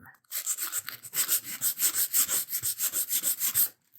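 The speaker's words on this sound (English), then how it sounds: "sand that primer down, and it should start looking a little bit better" Sandpaper rubbed briskly back and forth over primed crown molding trim, a steady run of close, rhythmic scratchy strokes with no talking.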